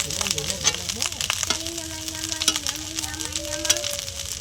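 Soybean paneer rice with green chillies being stirred in a pan, giving soft frying sizzle and scattered scraping clicks, while someone talks over it throughout.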